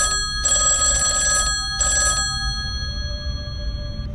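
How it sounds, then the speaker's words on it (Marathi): An old-style telephone bell rings in a shop at night, two long electric trills separated by a short pause, then a fading ringing tone, fairly close and with nothing else around. "त्याला एक फोन आला"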